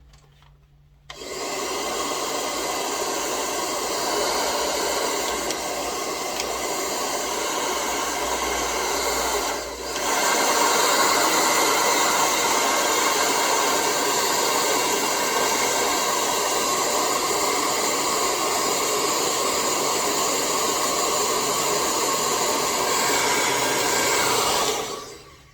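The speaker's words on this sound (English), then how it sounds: "Let me take my blow dryer here." A handheld blow dryer is used to dry paint on a rose painting, a loud close steady whir switching on after a moment, dipping briefly midway, then running continuously until it shuts off.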